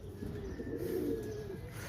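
Pigeons coo in a breeder's loft, a low warbling burst rising and falling close by for a couple of seconds with no voices over it.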